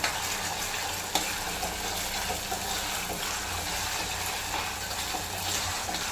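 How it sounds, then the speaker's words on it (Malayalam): Crushed garlic and other ingredients for a fish curry fry in a pan, giving a dense, close sizzle with bursts of stirring and bubbling, steady and without talk. "കറി നല്ലപോലെ ഇളക്കി പിന്നെ പച്ചമണമൊക്കെ മാറി നല്ലപോലെ മൂത്ത് വരണം"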